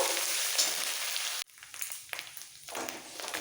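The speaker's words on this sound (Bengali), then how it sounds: "পেঁয়াজ ভাজা হয়ে গেছে" Onion paste fries in hot oil with a bright, dense sizzle that cuts off sharply partway through. A softer crackle and a few stirring scrapes follow, with no speech.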